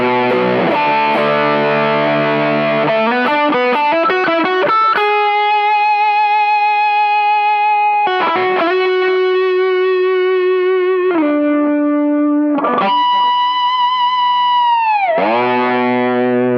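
Distorted electric guitar through a bridge humbucker and stacked Sheba Drive overdrive, playing sustained overdriven notes and chord slides, loud and continuous with a thick, saturated tone.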